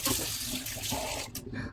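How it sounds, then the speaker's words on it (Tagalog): A short burst of running tap water splashing into a sink during rinsing after a vinegar soak, close and fairly soft, with the flow shifting and briefly breaking near the end. "tapos hugasan natin ng water"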